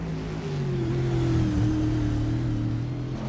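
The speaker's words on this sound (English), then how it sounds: "it sounds like the engine's on" A NASCAR Cup Series race car on the Chicago street course holds a steady, droning engine note that dips slightly in pitch and recovers as it works through corners, loud and continuous with no talk.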